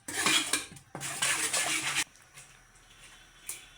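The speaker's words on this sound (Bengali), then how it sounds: "আগে মশলাটা এই যে মিক্সড করে নিচ্ছি চামচ দিয়ে।" A spoon works through spice pastes, including green chili paste, in a metal bowl, scraping and clinking in two long bursts before quieter, sparse taps.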